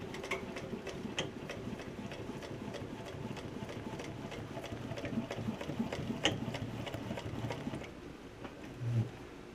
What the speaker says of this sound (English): So now we're going to stitch the corners up and go see how it fits on the blast cabinet.